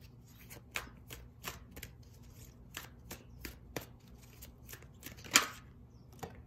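Oracle and tarot cards are shuffled by hand in a quiet room, a series of soft, crisp riffling bursts repeating at a fairly regular rhythm, with one sharper snap near the end.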